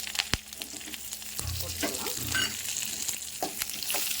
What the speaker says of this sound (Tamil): இதெல்லாம் போட்டு தாளிச்சுக்கலாம் அடுத்தது வரமிளகா கருவேப்பிலை